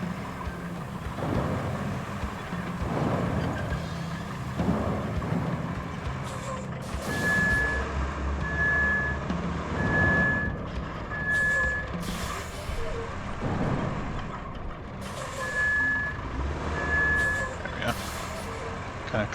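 A dump truck in RoadCraft rumbles and hisses while a reversing alarm gives steady rhythmic beeps in two separate runs, with a voice talking over the engine.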